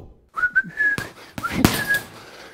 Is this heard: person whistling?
yes